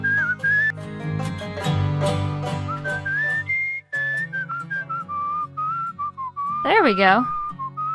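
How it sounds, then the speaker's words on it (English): A character whistles a lilting, wavering tune in the video game Where The Water Tastes Like Wine, with a trilling flourish near the end, over a low musical backdrop, and a voice speaks briefly. "let's whistle"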